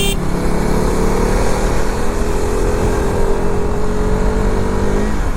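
A motorcycle engine drones steadily and loudly, holding a sustained engine-braking tone with a slowly falling pitch on the Kashedi ghat descent, over heavy wind rush.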